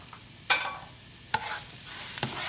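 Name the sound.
garlic cloves sizzling in a hot pan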